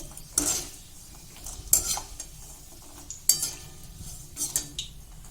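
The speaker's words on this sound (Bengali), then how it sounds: "আপনারা তেলে দেওয়ার সঙ্গে সঙ্গে নেড়ে নেবেন, তাহলে এক একটা আলাদা হয়ে যাবে।" Peanuts fry in hot oil while being stirred for a spicy peanut masala snack, with bursts of crackling and sharp metallic scrapes and clinks of a spoon against the pan, close and fairly loud.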